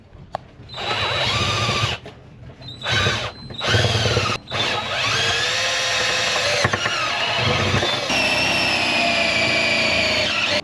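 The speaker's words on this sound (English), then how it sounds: "I'm drilling a new hole because the old hole was down there at the bottom" A loud power drill whines in bursts, revving up and cutting out several times, then runs steadily as it bores a hole aboard a 57-foot catamaran.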